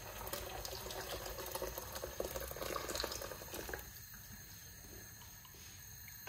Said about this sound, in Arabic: دولة من الماء